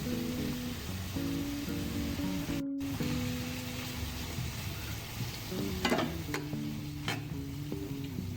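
Homemade kimchi frying in a pan with its juice while cooking a pasta dish, giving a soft, steady sizzle with a few stirring clicks, quiet and close under a constant background hum.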